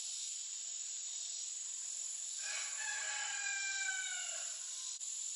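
A rooster crows once near a chicken coop outdoors, a drawn-out cock-a-doodle-doo at moderate distance over steady insect and cricket buzz.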